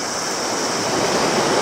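Water rushes steadily over a wide, shallow river crossing, a loud, close, continuous broadband roar that builds slightly toward the end, with no talk.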